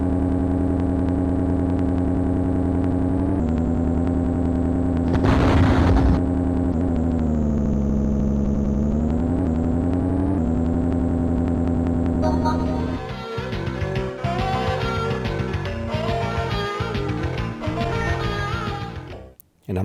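A Commodore 64 racing game plays a steady synthesized engine drone that shifts pitch as the vehicle speeds up, followed by busier chiptune effects in the latter part.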